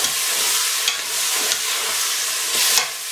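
Masala frying in oil in a pan for beef keema, a steady loud sizzle with a few scraping stirs of the spoon, and no talking.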